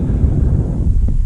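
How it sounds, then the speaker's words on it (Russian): Spring wind blowing across a marsh near an artificial pond, a steady, loud, low rumbling roar buffeting the microphone with no breaks and no voices. "Поднимается ветер, как всегда."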